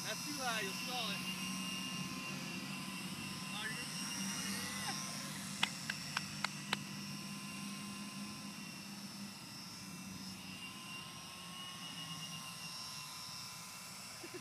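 A small remote-controlled weather recon aircraft flies overhead with a steady droning whine that stays fairly even throughout. A few clicks come through and people talk over it.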